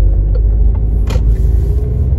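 Steady road traffic rumble heard from inside a moving car on a city street with traffic lights, with a brief swell of a passing vehicle midway; no talking.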